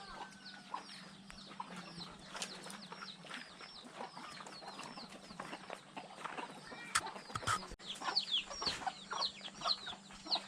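Chickens cluck and chirp in a village at dusk, soft and somewhat distant, with scattered bird calls, a low steady hum, and a few faint knocks.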